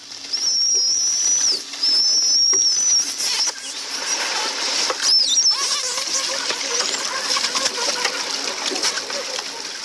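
Male dolphins fighting underwater: dense bursts of high whistles and squeals come first, then a broad, continuous wash of buzzy clicks and noisy splashing takes over, close and steady throughout.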